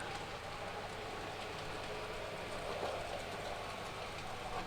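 A Graham Farish SECR N class N-gauge model steam locomotive runs around its track, giving a quiet, steady mechanical whir and faint rail clatter that keeps going without a break.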